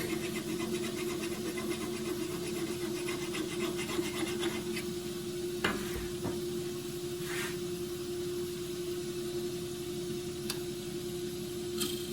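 A woodturning tool is honed by hand at the lathe while turning a bark box from very hard Tasmanian horizontal scrub: steady rubbing strokes under a constant low electrical hum, with a couple of sharp knocks partway through.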